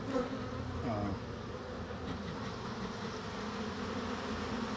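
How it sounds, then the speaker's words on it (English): Agitated honey bees buzz around an opened hive after smoking, a dense, steady droning with individual bees whining closer to the microphone now and then. "these bees are still stirred up a little, but they're not aggressive anymore"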